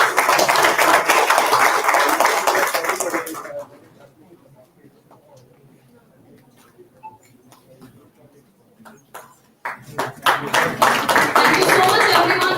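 Audience applause for the Scientist of the Year for Social Impact Award winner at an industry summit, loud dense clapping at the start that fades to quiet murmuring before a second strong burst of applause near the end.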